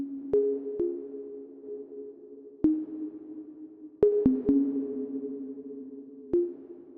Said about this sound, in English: Here, with ShaperBox turned off, I just have this really quiet operator pluck.